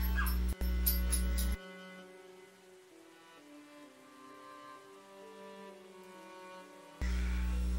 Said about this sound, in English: My dog is being a loud ass.